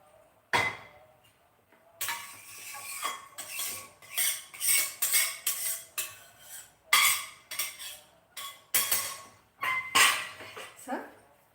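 A spoon repeatedly scrapes and clatters against a metal pan while stirring semolina and coconut laddu mixture, rhythmic close scraping strokes with short pauses between them.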